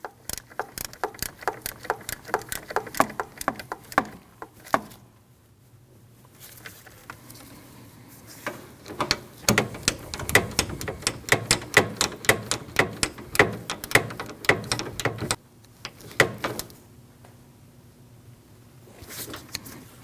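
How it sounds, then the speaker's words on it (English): Ratchet snugging two 12mm bolts on the A/C compressor of a 2003-2008 Subaru Forester, rapid close clicking in bursts with short pauses, no talk. "Now you want to snug your two 12mm bolts."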